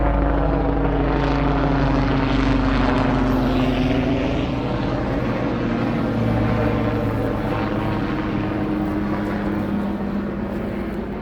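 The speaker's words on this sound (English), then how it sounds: "There's a helicopter." A loud helicopter drones overhead, a steady throbbing engine hum that fades slightly as it passes.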